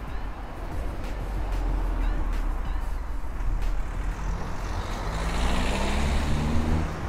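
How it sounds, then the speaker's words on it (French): Sunday road traffic rolling past, a steady loud broadband rumble of engines and tyres with a heavier vehicle whining and droning in the last couple of seconds, no voices. "Et la circulation, on est dimanche."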